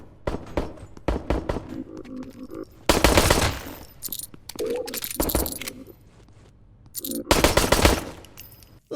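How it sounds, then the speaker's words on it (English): Bursts of rapid gunfire crackle in an action game firefight, with loud sustained volleys separated by short pauses and scattered single shots. "You can utilise the sound of the ongoing firefights to your advantage."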